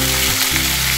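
Boiled potatoes land in hot oil in a pan and sizzle loudly and continuously, with a dense, close hiss and a brief dip in the low hum, and no talk.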